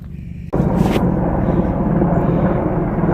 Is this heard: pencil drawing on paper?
no